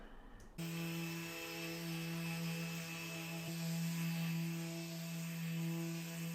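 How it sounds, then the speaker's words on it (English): A glued-up wooden tabletop panel for a floating coffee table being sanded with a power sander, a steady loud whirring drone that starts abruptly and runs continuously up close. "Finally, do a quick sand."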